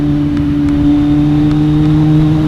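A Kawasaki Z800 motorcycle ridden slowly in low gear on a rain-wet, slippery road, its engine a steady, continuous drone with a constant low hum throughout and no voices.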